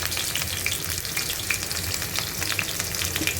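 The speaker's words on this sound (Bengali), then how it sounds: "পুর তৈরি করার জন্য প্রথমে হচ্ছে আমি এখানে পেঁয়াজ দিয়ে দেব।" Onion hits hot oil for a potol dolma filling, giving a continuous close sizzle and crackle with a few small pops, steady and even over a few seconds.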